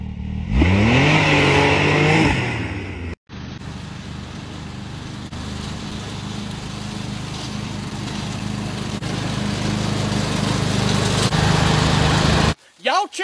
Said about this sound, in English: Y'all check out my one of a kind, high powered all terrain lawnmower.